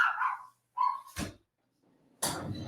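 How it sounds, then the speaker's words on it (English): A dog barks in short, loud bursts near a sliding door, a few sharp barks with pauses between, followed by a softer whimpering tail and a final bark. "So this barking dog."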